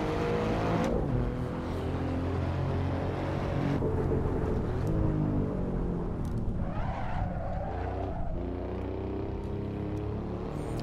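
An Alfa Romeo Giulia Quadrifoglio in the Assetto Corsa racing game drifts sideways, its engine droning loudly and steadily throughout with rising and falling revs, close and continuous with no talk.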